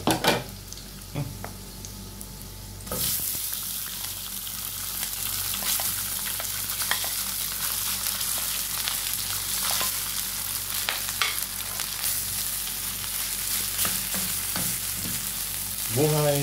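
Leftover rice sautés in a hot pan with a bright, continuous sizzle that starts abruptly after a short quiet opening, with occasional spatula scrapes and taps close by.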